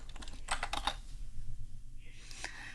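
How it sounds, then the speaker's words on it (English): Quick light keystrokes on a computer keyboard as a word is typed into a search box, a short cluster of close clicks followed by a pause and a few more taps, quiet and without talking. "so I'll type that in the search box here"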